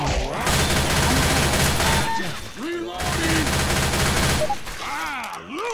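Rapid gunfire in the zombie shooter Left 4 Dead 2, dense bursts of automatic shots pounding almost continuously, with excited voices of players talking over the firing.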